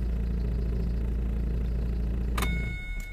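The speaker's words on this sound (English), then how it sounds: "make sure we still have an engine that starts, which it does" A Vauxhall Vectra 1.9 CDTI diesel engine idles steadily and close by with a constant low hum, then is switched off near the end, leaving a brief electronic chime.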